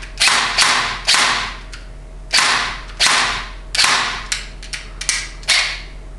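Rapid, loud airsoft rifle shots from a standard gun powered by a lithium-polymer battery, about ten sharp cracks in uneven bursts, some close together and some spaced apart, with no talking.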